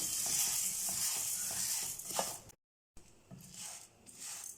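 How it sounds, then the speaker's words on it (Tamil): Toor dal and chana dal dry-roasting in a pan, a soft crackling sizzle with occasional scrapes of stirring, briefly cut to silence midway before resuming. "நம்ம பருப்பு வறுக்கும் போது நல்லா ஒரு அரோமேட்டிக் ஸ்மெல் வரும்"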